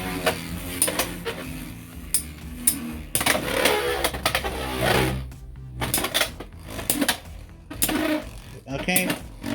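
Beyblade X Hells Hammer tops launched into a stadium, spinning with repeated sharp metallic clashes and rattling scrapes, loud and close, with a voice talking over the action.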